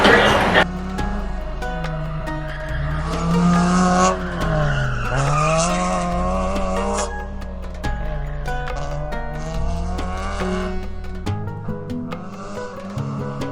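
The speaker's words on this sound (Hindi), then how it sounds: "मनीष खेलने वाले हैं कार रेसिंग गेम" An arcade car racing game at an indoor game zone in Bahrain, its engine roar and screeching tire skids sustained and loud throughout, with music-like tonal layers over a constant busy background.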